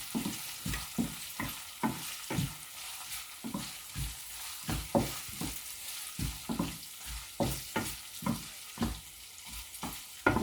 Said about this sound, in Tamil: கடலைப்பருப்பு அதையும் போட்டு வறுப்போம்.